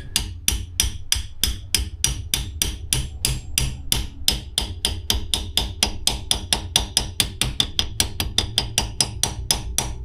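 Rapid, steady metallic tapping on a deep socket drives a valve seal into place during a J-series engine valve spring and titanium retainer upgrade, with dozens of evenly spaced, close, sharp knocks and no talking.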